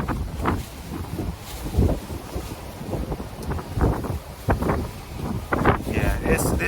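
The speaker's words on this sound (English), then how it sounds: "Ooh, it's windy. Winds are picking up." Strong wind buffets the microphone on a New York street, rumbling gusts surging and fading throughout, with a voice speaking in between.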